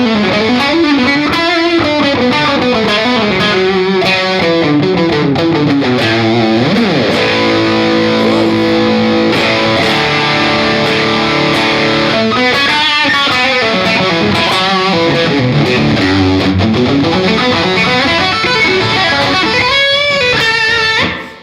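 Electric guitar played through Violet and PG-14 distortion pedals, a loud, continuous, heavily saturated tone with sustained chords and sliding riffs, with no talking.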